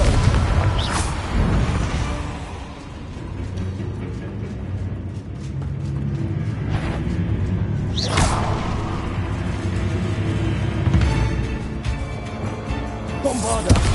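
Confringo blasting spell from Hogwarts Legacy, set in a dense battle soundscape: several sharp explosive bursts and whooshes over a steady rumbling bed, loud and close throughout.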